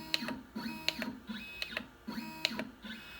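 A CNC machine jogging in coarse 1-inch steps under X-Pendant control, giving repeated short bursts of whining stepper-motor tones with rising and falling pitch sweeps, close and moderately loud, with no talking.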